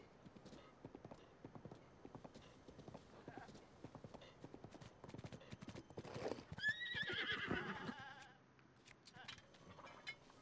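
Horse in a Zelda video game, with rapid clip-clop hoofbeats throughout and a loud whinny partway through, quiet overall with a voice speaking briefly.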